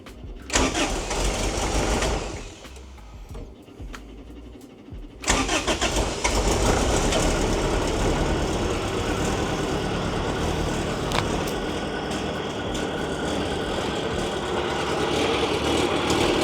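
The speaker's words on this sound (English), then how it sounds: "So now we're going to start it up and we get to see what it sounds like with the exhaust." A supercharged 1992 Honda Civic VX with a new exhaust cranks briefly, pauses, then fires and settles into a loud, steady close-up idle.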